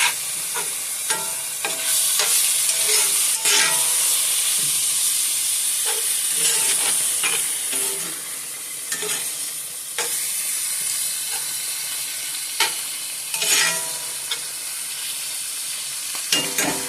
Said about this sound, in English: Now we'll just let our liver and our rice go ahead and cook down until our liver is cooked all the way through